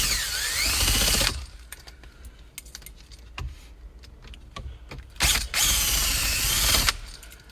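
A power tool zips out 10 mm bolts behind the brace of a Cadillac SRX dashboard, with two loud whirring bursts and scattered ratchety clicks and rattles between them, close up and without speech.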